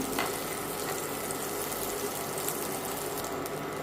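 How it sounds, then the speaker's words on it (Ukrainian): Steady, soft sizzling of eggs poured into a frying pan with melted butter, a continuous crackling hiss at low volume with no voices. "І виливаю туди нашу яєчницю."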